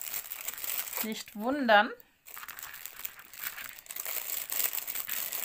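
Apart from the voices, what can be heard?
paint pots being packed into a crinkling plastic bag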